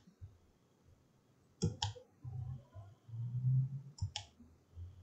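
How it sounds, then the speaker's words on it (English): Two quick double clicks from a computer mouse during CAD modelling work, crisp and near, spaced a few seconds apart over a low background rumble. "And then go right mouse click."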